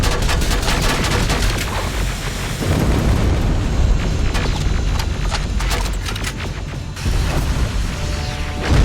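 Rocket blasts and heavy booms from combat in the video game Terminator Resistance, loud and close, with a dense rumbling barrage that swells and breaks off in bursts.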